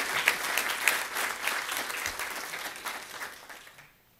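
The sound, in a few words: applause for students at city council meeting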